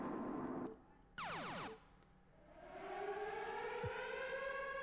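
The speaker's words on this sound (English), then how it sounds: "We'll go with the long siren" A long, rising and falling siren effect from the NBA 2K19 game sounds out: a brief burst, a short gap, then a sweeping siren swelling up and holding, fairly quiet and clear with nothing else over it.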